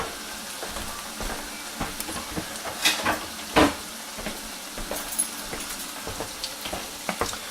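Potatoes fry in a pan with onion and sausage, a steady sizzle broken by scraping clatters as they are stirred, close and without talk.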